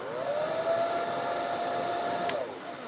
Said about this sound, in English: If I put the blow dryer on, the hair dryer on warm, I will put it on